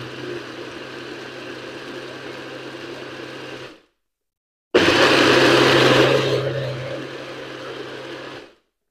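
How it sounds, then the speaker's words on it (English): A blender whirs through pineapple, coconut water, ginger and lemon in two close, loud runs: a steady motor drone, a brief silent pause, then a harsher surge that settles before cutting off. "Don't blend it too long."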